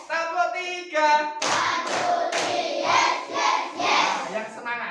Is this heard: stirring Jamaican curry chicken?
no